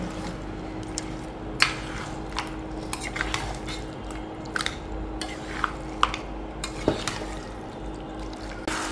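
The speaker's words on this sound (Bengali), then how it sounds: "সবগুলো এখন ভালোভাবে নাড়াচাড়া করে নেব, যাতে মশলাগুলো মাংসের সাথে ভালোভাবে মিশে যায়।" Marinated chicken with spices and onions being stirred in a pot, heard as faint, irregular scrapes, soft squelches and light utensil clicks over a low background hum.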